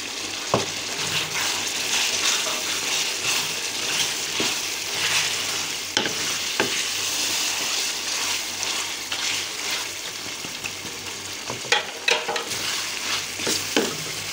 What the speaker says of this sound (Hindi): ये लहसुन अदरक का पेस्ट डालूंगी।